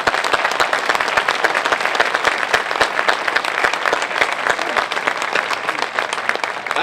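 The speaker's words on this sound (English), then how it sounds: "Let's give our distinguished alums another round of applause" Dense, sustained audience applause fills a reunion induction ceremony as the crowd honors distinguished alums, loud and continuous with many overlapping claps throughout.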